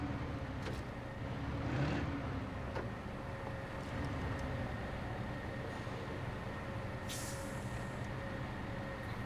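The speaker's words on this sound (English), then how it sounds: "I'm glad they keep the old trains running" Steady train rumble from an old locomotive in the video game Snowrunner, a continuous low drone with a faint hissing burst near the end, running alone without talk.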